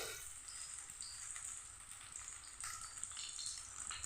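Paneer tikka pieces fry in oil in a wok, giving a steady, close sizzling hiss with faint crackle that runs evenly throughout without pause.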